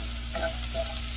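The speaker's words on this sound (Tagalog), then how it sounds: "high heat tayo, no? Sa pag-gigisa ng bawang." Garlic sizzling and frying over high heat in a hot wok, a continuous close crackle with brief scraping stir sounds, no talking.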